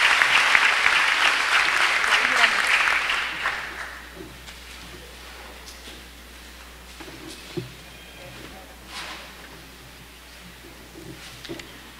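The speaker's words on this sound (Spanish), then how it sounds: "cerramos con un aplauso este acto tan significativo para nuestros graduados" Applause closing a nursing graduation ceremony, a loud burst of clapping from the assembled crowd for about four seconds before fading into quiet room noise and scattered murmurs.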